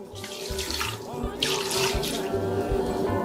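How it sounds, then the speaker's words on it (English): Tap water runs steadily into a pressure cooker while Ghanaian green soup with spinach is cooked, a close continuous splashing rush with no talk over it. "Add a bit of water."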